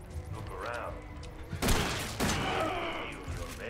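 Pistol gunfire in the video game Resident Evil 7, a couple of loud bursting shots with booming tails amid game ambience, with a voice talking over it.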